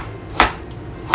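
Two sharp knife chops on a cutting board, ginger being cut for a whole grilled chicken marinade; close, crisp strikes about three-quarters of a second apart with no talk.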